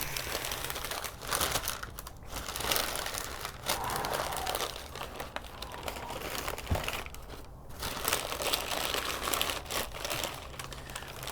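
Smoked beef plate ribs are unwrapped from their wrap, producing steady close crinkling and rustling of paper or foil that continues throughout without speech.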